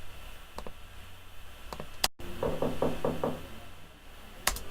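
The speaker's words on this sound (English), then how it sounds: "I actually placed these door knocks" Door-knock sound effects placed in a music video: a quick run of five close wooden raps, set among a few sharper isolated clicks and bangs over a low background hum.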